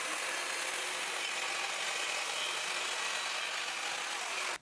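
A saw rasps steadily through wooden window trim in one continuous cut that runs unbroken, then stops abruptly at the end.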